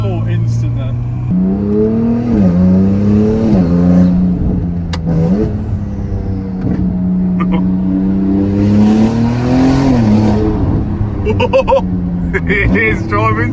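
A rebuilt Ferrari 296 is driven, its engine note rising and falling loudly as it accelerates and eases off, with occupants talking over the cabin sound.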